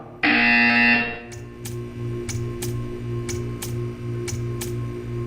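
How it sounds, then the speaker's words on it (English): A loud, steady electronic buzzer in the video game Portal 2 blares for about a second, then a soft rhythmic ticking with faint repeated clicks carries on over a low hum. "You will hear a buzzer."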